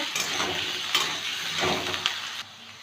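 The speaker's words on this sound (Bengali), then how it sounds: "আলুটা 2 মিনিট ভেজে নেব।" Potatoes frying in hot oil for a Bengali jhinge aloo posto dish, a steady sizzle with a few soft stirring scrapes, close and fairly loud, cutting off near the end.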